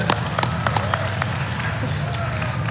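Audience clapping at an Oculus presentation at SXSW 2014, with sharp, fast claps scattered over a busy crowd hum, and a voice urging the crowd on.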